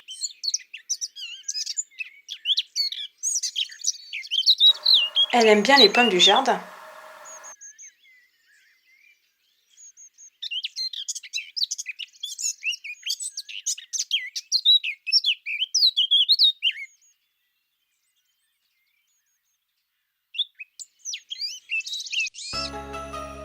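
Thin, rapid chirps and twittering from small birds at a garden feeder in winter, with a female Eurasian blackcap among them, coming in bursts with pauses between. Someone speaks briefly over the birdsong.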